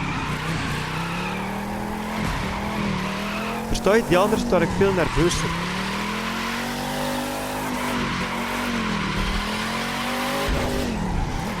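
A slow car in The Crew 2 video game drives with a steady engine drone that rises and falls, broken by a loud burst of tire squeal and skidding midway, while someone talks over it.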